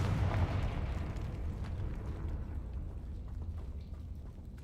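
A Confringo blasting spell explodes in the game Hogwarts Legacy, a loud low rumbling boom that opens strongly and then rolls on as a steady heavy roar, with no voices.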